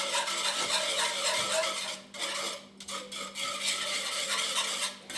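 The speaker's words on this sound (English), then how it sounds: "I'm going to continue stirring it so that the cheese has time to melt for the sauce." A spoon scrapes and stirs steadily through cheese sauce in a pot while the cheese melts for luxury mac and cheese, with close, continuous rasping strokes and a brief pause midway.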